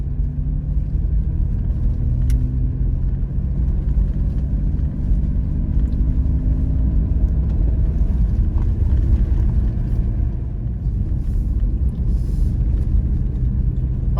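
A vehicle crossing a dry lake bed on the Trans America Trail while overlanding gives a steady, loud low engine and road rumble that continues throughout with no talking.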